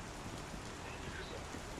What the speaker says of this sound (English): And you have to run through the rain here.